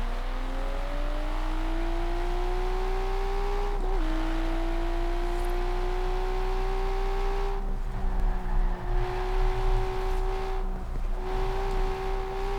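A 670-horsepower Nissan Skyline GT-R R33 in the Forza Horizon racing game drones at high revs on a highway, its steady engine tone climbing slowly with brief dips as it shifts, loud and continuous with no talking.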